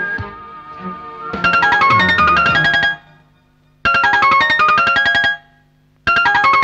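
A mobile phone ringtone plays loudly in a home, sounding in repeated melodic bursts separated by short pauses.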